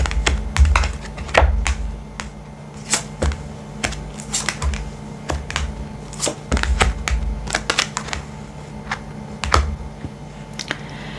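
Tarot cards being spread and laid out on a table, a steady series of sharp taps and flicks with irregular rhythm, close and clear with no talking.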